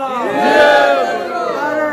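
A crowd at a Pakistan People Party political rally shouts a slogan in unison, a loud, close, sustained chorus of many voices rising and falling over about two seconds.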